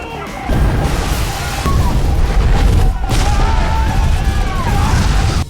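A movie grenade blast booms loud and close, then the crash and roar of gunfire and debris rolls on steadily without letup for several seconds.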